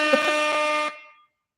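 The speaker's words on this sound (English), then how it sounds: "That's such a weird air horn noise." A single loud, close air horn blast as a sound effect, a steady harsh tone held for almost a second before cutting off into a short fading tail.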